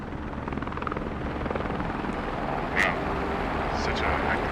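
Helicopter rotor noise in the military video game Squad, a steady low drone throughout with a brief sharp sound midway, while people talk over it.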